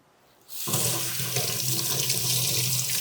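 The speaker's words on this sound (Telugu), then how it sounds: "కరేపాకు కడుక్కుందాం" A kitchen tap suddenly gushes on and keeps running loudly and steadily while curry leaves are rinsed under it.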